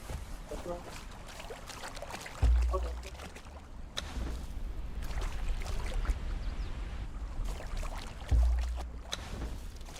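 Star metal rumbles in a video game, two deep low booms several seconds apart under steady watery, splashing background sound, with a person talking over it.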